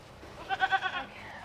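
Goats bleat near a pen in a quick run of three or four wavering, nasal calls, moderately close and alone without talk.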